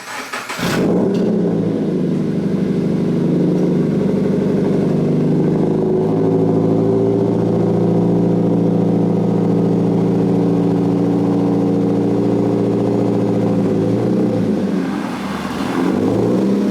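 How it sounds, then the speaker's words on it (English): A 2013–2021 Subaru BRZ / Scion FR-S drives into a garage, its engine a loud, steady, close rumble that idles evenly before settling down. "go bring the car into the garage"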